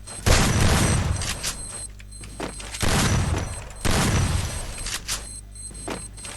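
Several heavy explosions in a row in a video game, each a loud booming blast with a rumbling tail, separated by brief quieter gaps.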